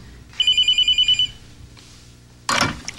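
A telephone bell rings in a sitcom scene with a quick string of bright, evenly spaced pulses, followed after a pause by a sudden loud clatter.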